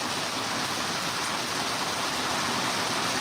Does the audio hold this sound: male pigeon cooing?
no